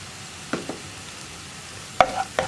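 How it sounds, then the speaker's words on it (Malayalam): Chili powder stirred as it fries in a pan for a pumpkin and bean curry, a soft steady sizzle broken by a few sharp spoon scrapes and clicks, close and alone. "ഇനി മുളക് പൊടിയുടെ ആ ഒരു റോ ടേസ്റ്റ് മാറി വരുന്നത് വരെ ഒന്ന് ഇളക്കി കൊടുക്കുക"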